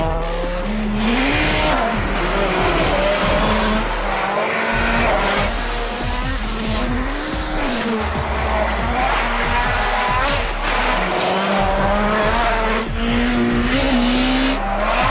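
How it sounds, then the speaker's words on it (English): Volkswagen Polo R rally car tearing across dirt in Finland: a loud, close engine revs hard through repeated gear changes, with tire squeal and skidding on loose ground throughout. "This is the Volkswagen Polo R ripping up some dirt, hoonigan style, in Finland"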